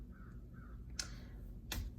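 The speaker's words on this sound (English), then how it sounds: "This crow is by my window, and he would not leave." A crow caws outside a window, two short harsh calls about a second apart, sharp and fairly near over a steady low room hum.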